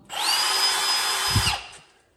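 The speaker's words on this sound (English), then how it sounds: "Drilling holes is fun." A power drill bores holes during a shop remodel in Bend, Oregon, with a loud, steady high whine close by for about a second and a half before it winds down and stops.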